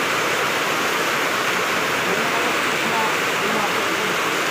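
Heavy rain during a flood at rural homes, a dense, loud, constant hiss and roar of pouring water with no break throughout.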